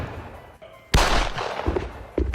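Stunt gunshot effect for a staged headshot: a sharp, loud bang bursts in after a quieter stretch, then a roughly sustained crackling tail, with a second impact near the end.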